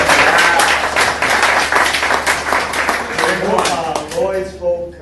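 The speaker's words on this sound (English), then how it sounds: "Let's give Lloyd a hand." A crowd at a leadership talk claps for former coach Lloyd Carr in a dense, loud burst of applause that tapers off as a voice begins to speak.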